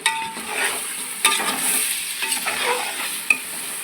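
Masala for mutton pulao frying in oil, a close, moderately loud crackling sizzle with a few sharp spoon knocks and scrapes as it is stirred, no speech.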